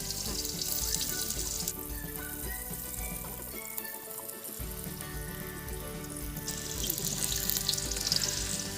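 Onion frying in a pan for village-style brown chickpea sambar, a steady close sizzle running throughout alongside a constant hum and running-water-like hiss.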